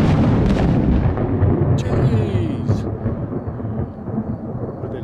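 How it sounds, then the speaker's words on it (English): Thunder rumbles during a freak storm in South Dakota, a loud continuous roar mixed with rain and wind, with a sharper crack partway through. "Do you hear that thunder?"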